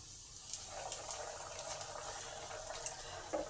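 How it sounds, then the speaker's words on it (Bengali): Crispy KFC-style chicken pieces frying in hot oil over medium heat, a bubbling hiss that swells after the first half-second and holds steady, with small pops toward the end. "এবার এক একটা চিকেন ফ্রাই করে নেব।"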